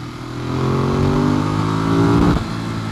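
A 2014 Ducati Monster 821 revs up loud and close on a ride, its engine note climbing steadily in pitch for about two seconds before the throttle snaps shut and the sound drops away.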